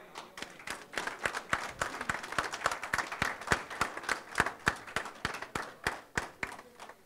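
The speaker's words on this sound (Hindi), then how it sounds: "आप लोगों की तालियों में" Audience applause at an association installation ceremony in Jeddah, a sustained burst of many hands clapping at a steady, moderate level in an indoor hall.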